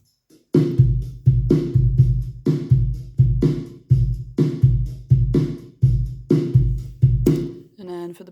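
A pop rock Logic Pro drummer groove at full loudness with hi-hat, snare, kick drum and a bit of tambourine: a steady, driving beat of punchy kicks and snare hits under shimmering cymbal ticks, loud and even, ending abruptly.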